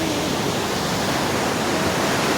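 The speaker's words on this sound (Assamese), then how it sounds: "এইফালে এবাৰ ঢৌটো চাওক ন পানীৰ ঢৌটো চাওক" Hot spring water rushes at Badrinath in cold mountain air, a dense, even roar of churning water heard close and loud, unbroken throughout.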